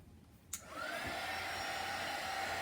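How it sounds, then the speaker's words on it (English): Heat blower shrinking covering film on a balsa model Hurricane plane: a click as it switches on, then a steady, loud whooshing motor roar that settles into a constant airflow hum. "to shrink the film now, I'll take this blower"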